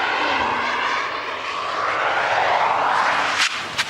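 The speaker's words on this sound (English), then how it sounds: "The Bentley accumulates speed relentlessly" A Bentley Continental GT accelerates hard with a rising, sustained roar that climbs steadily in pitch, heard loud and close, with a sharp whoosh near the end.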